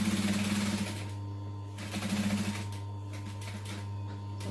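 Sewing machine top stitching a Greta clutch, two short rapid bursts of stitching separated by pauses, close and clear over a steady motor hum.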